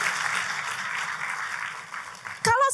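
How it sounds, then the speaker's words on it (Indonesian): Scattered applause from a church congregation fills the room, ending abruptly as a preacher's voice breaks in loudly. "tepuk tangannya boleh yang paling meriah"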